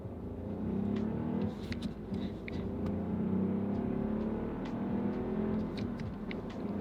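A warmed-up Ford Focus engine idles and revs in a low, throaty rumble, rising and falling a few times, close by.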